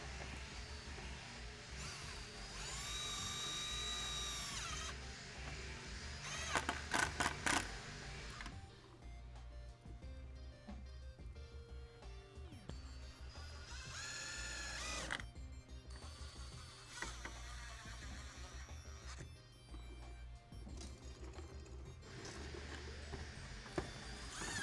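A power tool drives and tightens bolts on a gloss black BMW X5 G05 body kit, giving a steady close mechanical whirring and ratcheting that rises in a few louder bursts over a low hum, with no talk.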